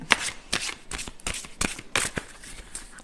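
Oracle cards from an unlimited abundance deck riffled and shuffled up close, several quick papery bursts with short pauses between them, no speech.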